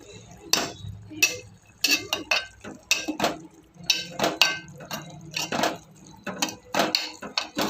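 Metal utensil clinking and scraping in a pan while mango and onion curry is stirred, a rapid, irregular run of sharp, close taps over a low background hum.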